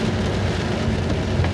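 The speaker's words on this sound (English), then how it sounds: "When it's raining this hard, it makes it really hard to smoke a cigarette too." Heavy rain pours steadily during a storm in Hull, a dense continuous hiss and patter filling the whole stretch with no voices.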